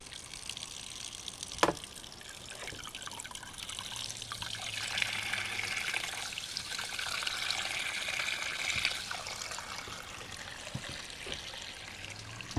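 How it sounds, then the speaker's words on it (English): Broken silver pieces rattle through a sieve screen into a gold pan under a steady trickling, pouring wash of water, with one sharp knock near the start and a continuous moderate splashing hiss throughout. "use a screen, a sieve, run them through into a gold pan, and let's pan it out"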